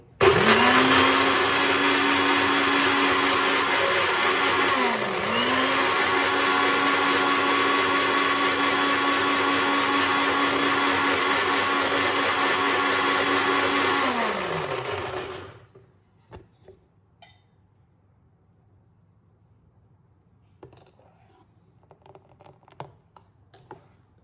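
A blender grinds soaked soybeans into a fine paste for soy milk, a loud steady motor whir with slight dips in pitch, then it cuts off near fifteen seconds, leaving faint clicks and handling noises.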